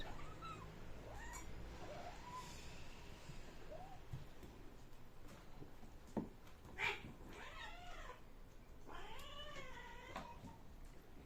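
A kitten meows repeatedly, with high, thin, rising and falling cries spread across the stretch, close by over a faint background hum.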